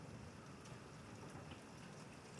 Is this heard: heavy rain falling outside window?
yes